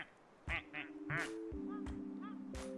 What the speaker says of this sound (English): I just wish they were a little more unique with the quack noises.